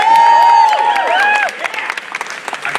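Audience clapping loudly and steadily at a live event, broken by whistles and cheers over the first half, then thinning into scattered claps and voices.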